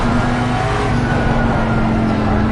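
A race car engine in Assetto Corsa Competizione drones loud and steady from the in-car view, a sustained high-revving whine that holds for the whole stretch with no talk over it.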